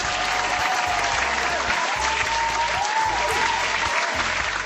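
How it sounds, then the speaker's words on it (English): Applause and cheering from an online audience during a livestream of Doki Doki Literature Club Plus on PC, a steady dense clapping sound lasting several seconds with a low rhythmic music beat and a faint tonal sweep underneath. "Round of applause."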